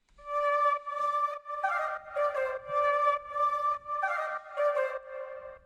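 Synth lead playing an old song's instrumental melody, from an FL Studio remake, with clear harmonic notes in a bouncy repeating phrase, loud and alone with no voices.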